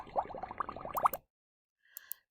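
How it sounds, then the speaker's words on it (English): Bubbles sound effect from the Scratch sound library: a quick run of bubbly plops and gurgles lasting about a second, then silence, then a faint brief bubbly blip. "We are going to choose bubbles, which sounds like this."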